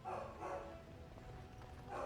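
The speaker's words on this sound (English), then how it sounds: "Oh, my dog's barking." A video game dog barks a few times, once near the start and again at the end, the barks fairly faint and set against a low, murmuring background.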